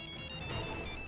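Phone ringtone on an outgoing call, a faint short electronic melodic tone that holds for about a second with no talk.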